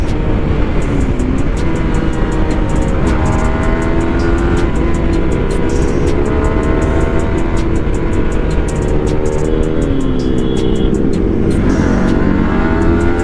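A TVS Apache Race Edition motorcycle riding past, its loud, close engine drone rising and falling in pitch as it accelerates and passes, over steady road and wind noise, no talk.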